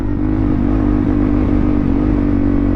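Suzuki DRZ supermoto motorcycle engine running steadily, a loud close single-cylinder drone with a slight mechanical clatter, no voices.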